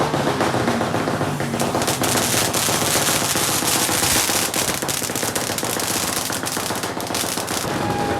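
New Year firecrackers and fireworks exploding nonstop, a dense loud barrage of rapid crackling pops and bangs with no pause, no voices heard.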